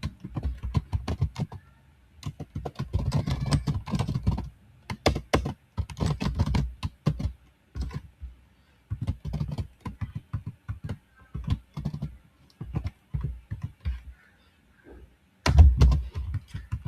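C++ code being typed on a computer keyboard, close, rapid bursts of clicky keystrokes separated by short pauses, with a heavier thump near the end.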